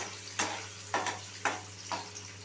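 Julienned ginger, garlic and green chillies frying in oil for soya manchurian, heard as a low steady sizzle with four regular scraping stirs of a spatula, close and fairly quiet, with no talking.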